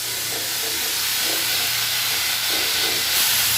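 Bottle gourd leaves fry in a pan, giving a loud, steady broadband hiss that stays close and continuous throughout with no voices.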